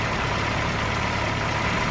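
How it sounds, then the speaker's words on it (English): A Cooper car engine running on carburetors with GG fuel needles, a steady broadband idle-like drone that holds even and continuous throughout, close and fairly loud with no speech. "So, got the engine going."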